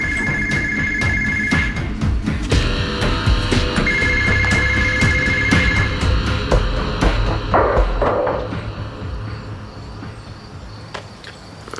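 A telephone rings in two bursts of trilling electronic bells, loud and close, over a busy background of clatter and ambient noise, with no voices during the rings.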